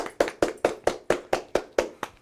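One person claps their hands in a slow, even rhythm, about nine sharp, close claps spaced a quarter second apart, with no talking.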